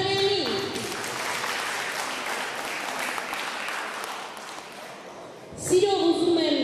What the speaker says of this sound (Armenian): ծափարենք նրան